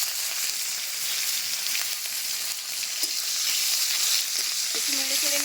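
Whole spices, cinnamon, cardamom, cloves, cumin, bay leaves and curry leaves, fry in hot oil, a loud unbroken close sizzle with faint clinks near the end.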